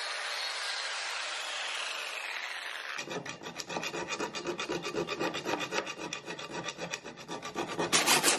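A blade edge being sharpened with a medium file during a Cerberus build: after a brief hiss, steady rasping strokes begin about a third of the way in and continue loud and close, with no talking.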